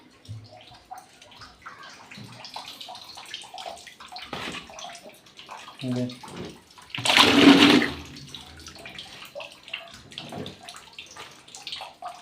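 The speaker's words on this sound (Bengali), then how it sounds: "এখন বাবুর কাপড় চোপড় ধোয়া" Baby clothes being washed by hand with water, splashing and sloshing in a quiet home, with one loud close burst of pouring water midway amid faint scattered handling noises.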